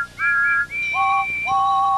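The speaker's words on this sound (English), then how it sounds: "Thomas gave one toot, and then one after the other." Thomas the Tank Engine's steam whistle toots in a quick run of clear, loud two-tone blasts, one after another in the same pitch pair. No talking is heard.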